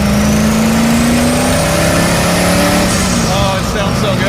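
A V8 engine in a 1975 AMC Gremlin revs on a chassis dyno, a loud, sustained roar with a steady rising tone under voices that talk over it.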